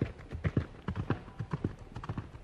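Hooves of a galloping horse clatter in a quick, uneven clip-clop rhythm, fairly close and clear with no talk over them.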